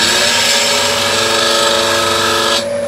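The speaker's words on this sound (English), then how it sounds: "Let me just sharpen my parting tool" A woodturning parting tool is sharpened on a powered grinder, giving a loud steady whine and grinding hiss that stops near the end.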